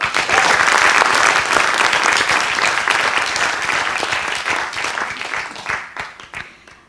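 Loud, sustained applause from a demo day audience, a dense wash of clapping that holds steady before tapering off into scattered claps.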